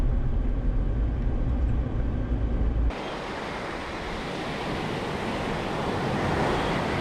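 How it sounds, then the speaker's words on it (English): Ocean surf at a Northern California beach, a steady loud wash of breaking waves with heavy wind rumble on the microphone early on, then a continuous broad hiss of surf. "There's the ocean. Here's the sand. We're at the beach."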